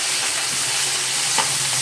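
Onions, green chillies and tomato stirred together in a hot pan for uggani, a steady close hiss of frying with a faint scrape of the spoon, no voices.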